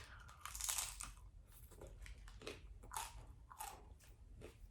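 Crispy thin crust pizza being bitten and chewed close up, with several sharp crunches followed by softer chewing crackles, fairly quiet and without talk.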